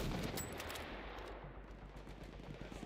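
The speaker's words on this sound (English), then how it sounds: "Ein Maschinengewehr!" Machine gun fire in Battlefield 1, a dense run of rapid bursts with overlapping shots, loudest at the start and continuing as a rattling, somewhat distant barrage.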